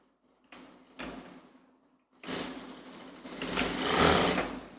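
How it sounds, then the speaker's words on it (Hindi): A sewing machine stitching kurti fabric, a short whirring burst, a pause, then a longer run that builds in speed and loudness, close up with a steady mechanical rattle. "यूँ इस तरीके से सिलाई कर देंगे"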